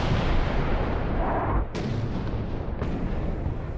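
Mortar fire in the war shooter Six Days in Fallujah rumbles loud and continuous, with two sharp blasts cutting through the dense roar.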